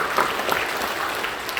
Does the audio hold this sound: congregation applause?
yes